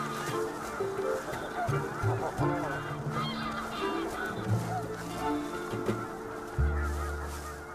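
Geese on the Arctic tundra give repeated honking calls, several birds near and far overlapping in irregular bursts over a steady soft background, with one louder honk close by near the end.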